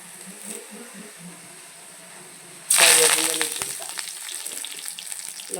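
Chilies dropped into a hot pan of oil burst into a loud, sudden sizzle that settles into steady crackling frying, preceded by a few quiet seconds with faint low talk.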